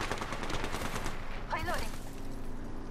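Gunfire crackles in a fight in Apex Legends, repeated rapid shots forming a steady automatic burst, loud and close, mixed with game effects.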